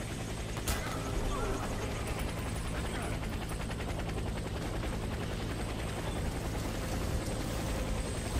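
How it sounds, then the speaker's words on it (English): A helicopter arriving for extraction in the shooter game Warface gives off a loud, steady rotor drone that fills the scene, with a sharp crack near the start and occasional gunfire-like bursts beneath. "Helicopter is inbound."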